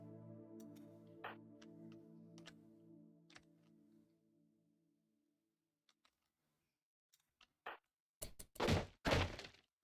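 A RimWorld colonist eating produces a short burst of hard knocking and banging thuds, a few loud irregular hits bunched together after faint ticks.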